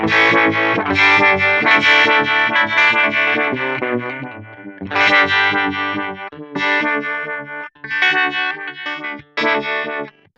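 Electric guitar run through the vibe effect of a Line 6 HX Stomp with the rate turned up, playing distorted chords and notes with a wobbling, pulsing modulation, loud and continuous with short breaks between phrases.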